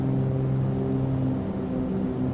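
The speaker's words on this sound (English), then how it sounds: "So one engine is out of sync with the other, you get that horrible noise." Twin piston engines of a Cessna 310R in Microsoft Flight Simulator, running out of sync during climb, give a steady loud droning hum with a slow beating throb, continuous and alone throughout.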